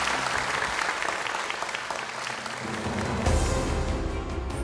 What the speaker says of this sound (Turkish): Tekraren kendilerini alkışlıyoruz efendim.